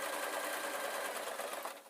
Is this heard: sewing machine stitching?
yes